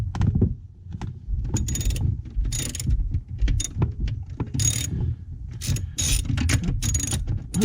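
A ratchet on a long extension works at a 13 mm nut on a Saturn Sky, bursts of quick clicking pawl ratcheting alternating with short pauses and low handling noise, close and alone.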